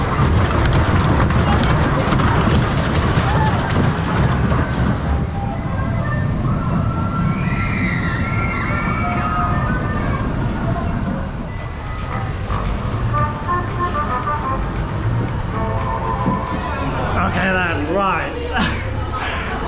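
Grand National wooden roller coaster running at full speed after its reopening, a loud continuous rumbling roar of wheels on track with rattling and shrieking peaks, riders shouting and talking over it throughout.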